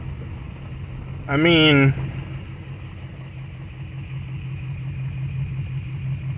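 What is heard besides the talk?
car engine idling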